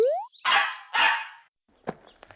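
A dog barks twice in quick succession, two loud, close, rough barks, followed by a brief clatter after a pause.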